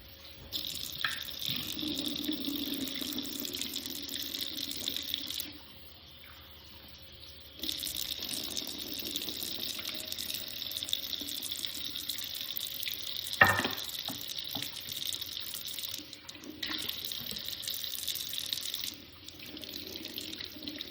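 Tap water runs steadily into a sink while raw chicken wings are rinsed and cleaned, a continuous close gush that briefly pauses twice before resuming, with a sharp clatter partway through.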